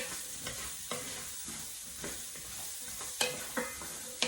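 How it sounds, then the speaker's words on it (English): A spoon stirs diced celery and other vegetables in a cooking pot, giving soft scraping strokes with occasional sharper knocks against the pot and a faint sizzle beneath. "I'm going to go ahead and give this a stir here"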